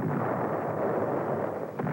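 Continuous heavy rumble of artillery fire, a dense, roaring barrage that stays loud throughout with no clear gaps.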